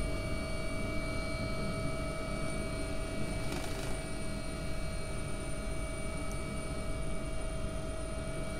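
AW-139 helicopter rotor in X-Plane 11, a steady, loud drone with a constant whine, flying near a coastguard helipad, unbroken throughout with no talk.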